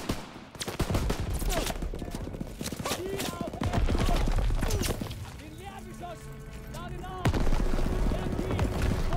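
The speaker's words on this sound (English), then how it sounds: "MGs are still sweeping the beach!" Machine-gun fire sweeps a beach during a World War II D-Day landing in Call of Duty WW2: dense, rapid bursts mix with explosions and battle noise, loud and continuous under shouted voices.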